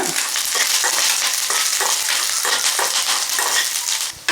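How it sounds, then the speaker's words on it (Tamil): Dried red chillies and curry leaves crackle and sizzle in hot oil in a pan while being stirred, a steady loud frying hiss with scraping stir strokes, no voices, for a country chicken varuval. "ஒரு வத்தல், கொஞ்சம் கருவேப்பிலை, இது நல்லா போட்டு நல்லா வறுத்துருங்க."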